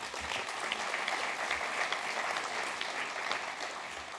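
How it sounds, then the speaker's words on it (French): Sustained applause from a rally crowd at a pension-reform political meeting in Saint-Nazaire, steady dense clapping throughout with a few louder claps, no talk over it. "je vous demande de l'applaudir, René Pilato."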